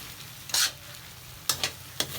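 Beef sizzles in a non-stick pan with a low, steady frying hiss, broken by several sharp scraping stirs of a utensil against the pan, close and with no voices.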